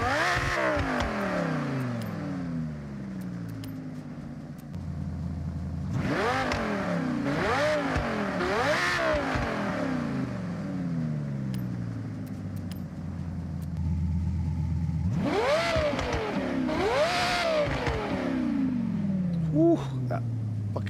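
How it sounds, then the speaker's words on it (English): A car in the Forza Horizon racing game, fitted with an upgraded exhaust, revs hard in repeated rising and falling bursts, loud and close, with someone talking between the runs. "that fucking exhaust upgrade just changed the whole sound of the car"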